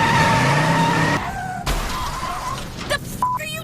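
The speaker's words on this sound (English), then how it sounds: "I'm gonna press the gas pedal and I'm gonna go forward." Race cars in the Ford Racing video game scream past. An engine whine holds steady, then tires skid, a crash-like burst breaks in, and short engine revs and squeals follow. The game audio is loud and busy.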